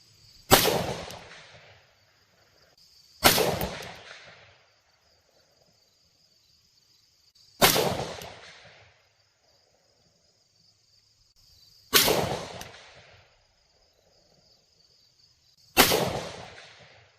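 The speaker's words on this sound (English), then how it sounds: "That'll be the 5 rounds of 77 grain OTM by AAC" Five rifle shots from an AR-15-style 5.56 rifle firing 77 grain OTM AAC rounds, sharp loud cracks spaced several seconds apart at an outdoor range, each trailing off in a short decaying echo.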